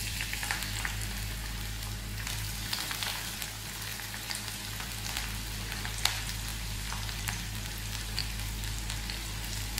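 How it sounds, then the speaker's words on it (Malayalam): Garlic frying in hot coconut oil in a pan for a chicken curry, a steady close sizzle with fine crackling pops and a low constant hum underneath, no talking. "അതിലേക്ക് വെളുത്തുള്ളി ഇട്ട് കൊടുക്കാം."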